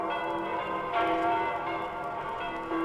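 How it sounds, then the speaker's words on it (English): Bells ring continuously in a 1974 Spider-Man audio drama, a dense clanging metallic peal, loud and sustained with no talking. "gotta get out of the way of the sound waves of those bells"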